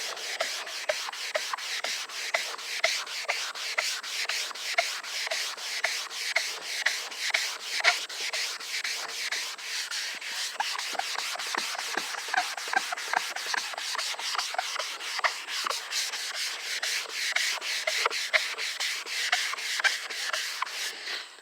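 Steady rhythmic hand sanding of a yellowed plastic headlight with a sanding sponge, a scratchy rasp repeating back and forth at a quick even pace, close by and continuous without any talking.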